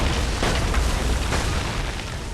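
Cannon bombardment of Charlestown in Assassin's Creed 3, a loud dense rumble of booming blasts and crackling debris filling the whole stretch, with no talking.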